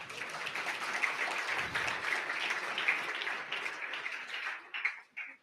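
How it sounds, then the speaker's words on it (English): An audience at a leadership summit gives a round of applause, a dense wash of clapping that holds steady and then thins out and fades near the end. "I think they deserve another round of applause."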